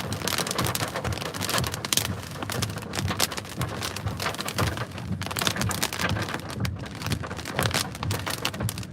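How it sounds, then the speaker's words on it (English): Heavy, blinding rain pours down during a tornado-producing storm in southwest Oklahoma, a dense, continuous roar of drops drumming on a surface, loud and steady with no voices. "Just blinding rain out west of me here."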